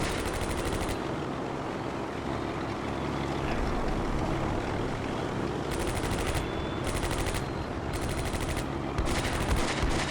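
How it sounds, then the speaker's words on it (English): Aircraft drone overhead in the WWII game Combat Mission: Beyond Overlord, a steady broad roar mixed with bursts of machine-gun fire and distant gunshots, with no speech. "I hear some planes too."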